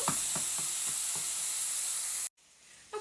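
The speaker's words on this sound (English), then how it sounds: "Stir it all good too and smash it all up." Turkey taco meat being stirred and mashed in a frying pan: a steady sizzling hiss punctuated by about six rhythmic scraping thumps of the utensil, then sudden near-silence and a faint clatter at the end.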